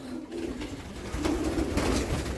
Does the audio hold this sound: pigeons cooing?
yes